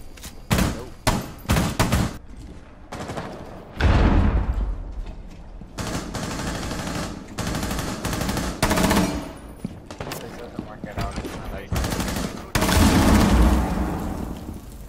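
Rapid bursts of gunfire from the video game Rainbow Six Siege, loud and close, with repeated volleys, sharp shots and booming hits throughout.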